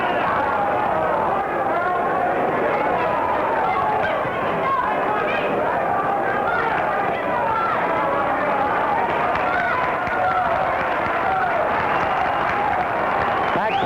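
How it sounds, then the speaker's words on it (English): Packed boxing crowd applauding the fighters at the Blue Horizon in a 1963 bout, a dense, steady roar of clapping and crowd noise filling the whole stretch with babble mixed in. "Packed house here at the Blue Horizon applauding the fighters."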